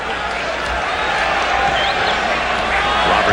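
A packed arena crowd at a 1994 NBA playoff game between the Nuggets and the Sonics roars in a dense, steady wash of angry noise over a goaltending call, loud and continuous throughout.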